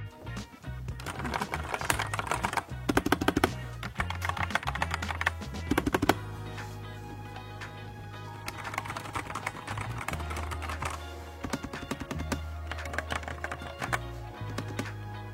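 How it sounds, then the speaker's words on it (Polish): Typing on a Genesis Thor 230 TKL mechanical keyboard with Outemu Red switches, a quiet tournament keyboard with hot-swap: dense, fast clattering keystrokes in bursts, close and fairly soft, with brief pauses between runs. "czerwone przełączniki mają tutaj na 52 dB jest wyliczony hałas"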